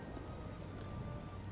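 Steady rainfall in the video game Final Fantasy XIV, a soft continuous patter with a low rumble beneath, unchanging across the brief stretch.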